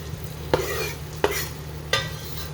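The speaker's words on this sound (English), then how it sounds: "I'm adding my sweet peppers in there with my onions." Sweet peppers and onions sizzle softly in a pan, broken by three sharp scraping stirs spaced about a second apart, each rising briefly above the low, steady frying hiss.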